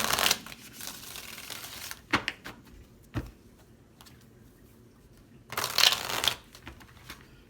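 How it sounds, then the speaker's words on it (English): A deck of tarot cards is shuffled close by in a series of quick, crisp riffling bursts, with softer handling taps between them. "Let's do one more shuffle."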